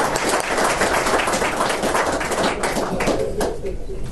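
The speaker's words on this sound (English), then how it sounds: "Hopefully you're still applauding when I'm done." Audience clapping for an introduced guest speaker, Lt. Colonel Troy Henderson, at Vance Air Force Base, a dense, steady wash of many hands that stays loud and continuous before thinning slightly at the end.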